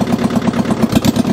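A Mitsubishi diesel tractor engine, saved from scrap, runs in first gear with a steady close chugging pulse, loud and even.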